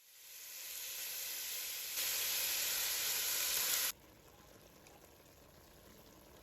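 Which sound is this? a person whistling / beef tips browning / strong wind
beef tips browning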